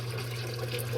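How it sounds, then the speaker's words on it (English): Hot water from a washing machine outlet runs into a pitcher, a steady close rushing pour with a constant low hum beneath it. "I'm just going to fill this up with the hot water coming out the washer"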